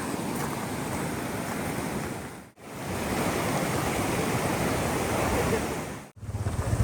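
A flooded river in Hawke's Bay rushes over a washed-out road near Sunrise Hut in a steady, loud, broadband roar of churning water. Wind buffets the microphone twice, briefly cutting the sound, and no one speaks.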